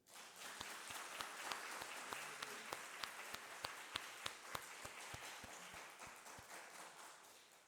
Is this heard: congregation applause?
yes